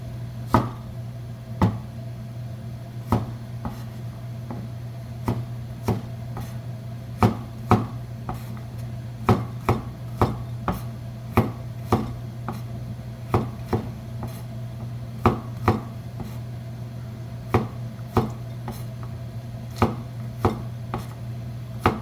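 A knife chops garlic for pasta on a cutting board, a steady run of about thirty crisp, close taps at an even, unhurried rhythm over a low constant hum, with no talking.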